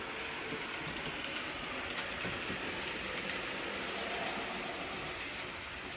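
A Blackmore Vale model railway locomotive runs steadily along a layout, a continuous close mechanical rumble and rattle with faint clicking that holds at an even level throughout, with no voices.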